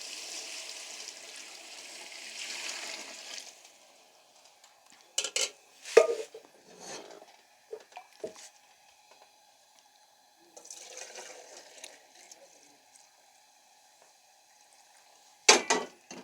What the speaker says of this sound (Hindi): अभी हम यखनी ऐड करेंगे।